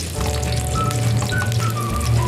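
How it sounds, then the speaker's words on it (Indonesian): Shallots and garlic crackle and sizzle loudly in hot oil in a wok, a dense steady hiss with faint whistling tones riding over it and no voices. "minyaknya sudah panas, kita masukkan bawang merah"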